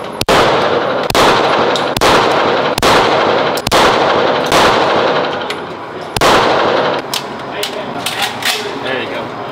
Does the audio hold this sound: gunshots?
yes